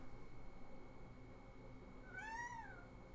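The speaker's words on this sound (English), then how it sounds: "he's like staring at me and meowing" A cat in a game meows once, a single rising-then-falling call near the end, fairly clear over a steady low background hum.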